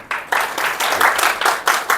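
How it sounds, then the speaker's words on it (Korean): Audience applause welcoming a speaker to the stage at the .NET Conf 2025 tech conference in Seoul: dense, steady clapping from a crowd that rises quickly after a brief pause and keeps going in surging waves. "큰 박수로 환영 부탁드립니다."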